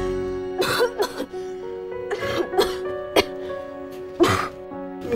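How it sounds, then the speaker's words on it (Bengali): A woman coughs and clears her throat in several separate harsh bursts, close and fairly loud, with a sustained musical tone running underneath in an indoor domestic drama scene. "দেখলে তো কাশিটা বেড়ে গেল"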